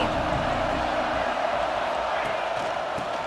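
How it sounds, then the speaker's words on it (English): A dense stadium crowd roars and cheers continuously in EA Sports College Football 26 during a Georgia versus Ohio State game, a loud sustained wall of noise with no clear gaps. "This crowd ready to make its presence known."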